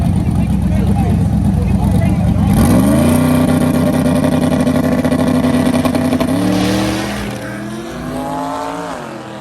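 A turbocharged Camaro launches on boost at a drag strip, its engine roaring loud and near and its pitch climbing through the gears before it fades slightly, with talk underneath.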